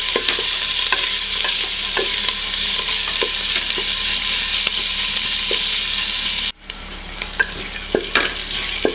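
Onion, garlic and ginger fry in a pan for chicken tehari, giving a loud, steady sizzle with scattered stirring scrapes. The hiss drops abruptly near the end, then resumes more softly.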